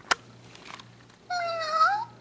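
A cat meows once, a close, drawn-out rising and falling call in the second half, after a sharp tap and faint rustling over a low steady hum.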